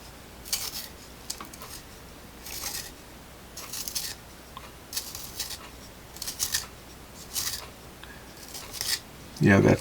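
Vintage Empire Choice cedar pencil being sharpened, giving repeated short dry scraping rasps in a steady rhythm, close and fairly quiet, with a louder rustle at the very end.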